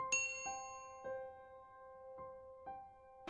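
A notification bell chimes as a series of about five or six clear, ringing dings at an uneven pace, each tone sustaining and decaying in near silence.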